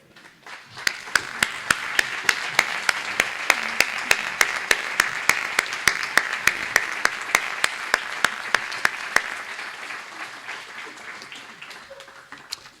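An audience at a WWII air-war event applauds standing veterans with sustained clapping, sharp rhythmic claps standing out above the crowd wash, then tapering off near the end.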